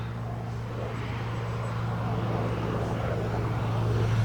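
A Flightline RC B-25J Mitchell model twin-engine warbird drones steadily overhead on approach to land, a constant low engine hum that grows slightly louder toward the end, with faint voices nearby.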